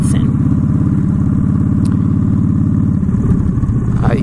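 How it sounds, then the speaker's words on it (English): A Harley-Davidson motorcycle idles nearby, its engine a loud, continuous low throbbing rumble with a slight clatter, steady throughout with no voices. "This little bike right here. It's so cool looking. It's a Harley Davidson."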